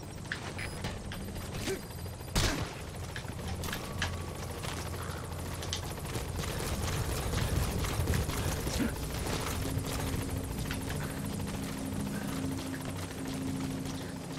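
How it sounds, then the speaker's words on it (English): A helicopter arrives in the video game Metal Gear Solid V: The Phantom Pain, a steady low rotor drone holding loud and close over game music and ambience, with a sharp thump early on. "The chopper will be able to get in close now."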